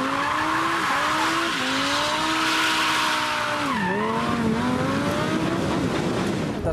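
A Lamborghini Gallardo Spyder sports car roars past with a loud, steady engine note, its pitch dipping and shifting as it goes by, tires squealing beneath the drone.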